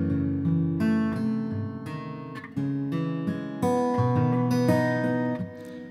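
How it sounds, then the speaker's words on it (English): Acoustic guitar riff from the Ample Guitar Taylor sample plugin, a flowing picked pattern of bright plucked notes and strummed chords, clear and close with no voices. "This entire piece that I've been developing here, just for the demo of this video, comes from the Ample Guitar Taylor riffs."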